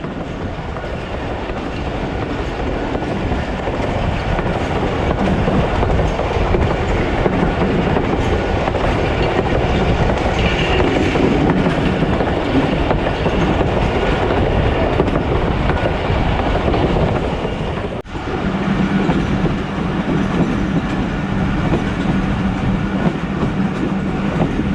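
Onboard the 130DN Thal Express passenger train from Rawalpindi to Multan, a loud, continuous rumble of wheels and carriage noise fills the clip, dipping for a moment before resuming.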